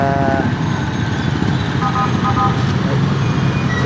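Steady engine rumble of motorcycles and other vehicles in traffic, a continuous close roadway drone with a faint horn-like tone in the middle.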